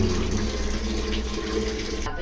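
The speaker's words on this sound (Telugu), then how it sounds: "ఇందులో వాటర్ తీసుకోవాలి. వాటర్ తీసుకొని మనం" Water pouring steadily into a metal idli cooker, a continuous splashing rush close by that cuts off at the end.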